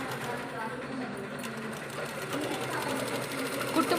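A sewing machine runs steadily as it stitches cloth, a continuous fast mechanical whir with a rapid ticking beat, and a voice speaking over it.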